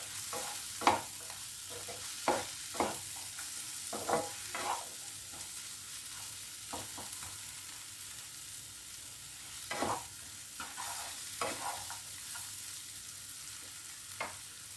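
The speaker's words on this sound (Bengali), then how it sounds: "এক চামচ ধনের গুঁড়ো দিয়ে ভালো করে নাড়াবো, যাতে মশলাগুলো ভালোভাবে এর মধ্যে ঢুকে যায়।" A spoon scrapes and stirs spices with coriander powder frying in a pan for an egg do pyaza curry, giving irregular scraping strokes over a steady soft sizzle.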